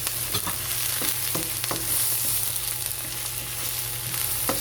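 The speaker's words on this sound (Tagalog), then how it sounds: "hahaluin lang natin" Tilapia and ginger frying in a pan for ginataang tilapia are stirred, steady close sizzling with repeated sharp scrapes and knocks of a utensil against the pan, no talking.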